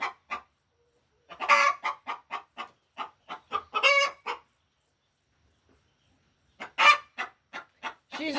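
A hen clucks in short bursts, rapid clustered squawks with brief pauses between, close and fairly loud against a quiet background.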